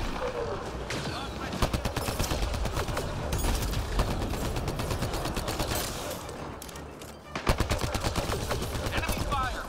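Gunfire in Mass Effect Andromeda multiplayer, with rapid automatic bursts and dense rattling shots nearly throughout, a short lull before another loud burst near the end, amid busy combat noise.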